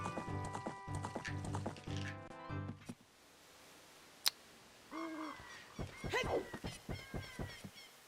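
Hoofbeats of a horse ridden in the video game Ocarina of Time, a clip-clop pattern mixed with game music and effects that drops to a quieter stretch before resuming.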